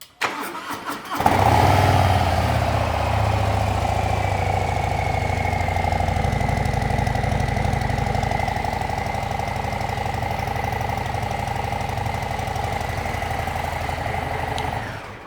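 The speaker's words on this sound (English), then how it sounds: "That's what all new Harley Davidsons are going to sound like, because they're clogged up with this stock exhaust" A 2025 Harley-Davidson Street Bob motorcycle with its stock exhaust cranks and fires up, then settles into a steady, loud, low idle that runs on evenly for many seconds.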